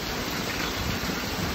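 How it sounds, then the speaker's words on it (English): Heavy rain pouring during a nighttime Hurricane Ida storm outside a flooding shop, a dense, steady hiss of downpour that is loud and unbroken throughout. "Oh, please stop raining soon."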